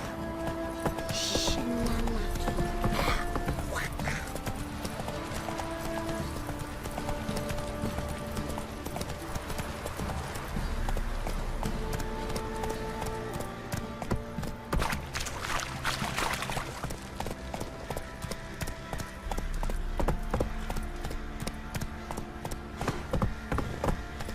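Roach the horse from The Witcher 3 galloping, rhythmic hoofbeats clip-clopping steadily with game music beneath and occasional faint background sounds.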